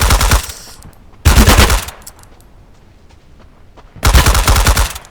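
Automatic gunfire in the survival shooter Deadside: three loud, dense bursts of rapid shots, near and sharp, separated by quieter gaps with a lingering tail, no talk.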